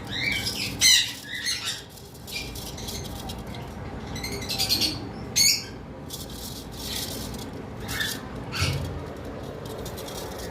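Pet sun conures, lovebirds and cockatiels chirp and squawk in sharp, scattered bursts over a steady rustling background, some calls loud and close, others fainter.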